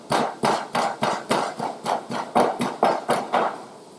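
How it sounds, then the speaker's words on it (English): Lemongrass, garlic and galangal with salt pounded into a spice paste: a steady rhythm of about eleven close, heavy thuds, each with a short grinding tail, slowing slightly toward the end, with no talk. "The salt's going to act as an abrasive. It's really going to help us grind this paste down."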